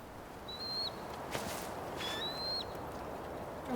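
An eagle cries twice in the Tell Me Why video game: two thin, high whistled calls that slide downward, each under a second long. They sit over a soft, steady ambient background with no speech.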